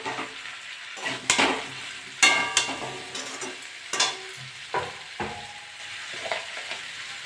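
Ginger paste hits a pan of frying banana and potato curry, setting off steady sizzling while a spoon scrapes and stirs in irregular bursts, with occasional clanks against the pot.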